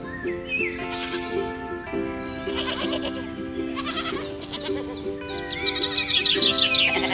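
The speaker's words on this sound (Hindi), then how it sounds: "एक बकरी एक बहुत बड़े गड्ढे में गिर जाती है और बहुत जोर से आवाज करने लगती है" A single goat fallen into a deep pit bleats loudly and repeatedly in an outdoor forest grazing area, with animated-story music or tones underneath and the calls growing louder toward the end.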